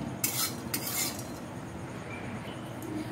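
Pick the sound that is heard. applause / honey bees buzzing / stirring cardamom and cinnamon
stirring cardamom and cinnamon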